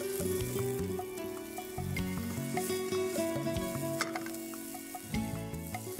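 Water chestnuts and sliced ginger sizzle in a hot pan with a continuous crackling fry, overlaid with clinks and scrapes of stirring and frequent sharp pops.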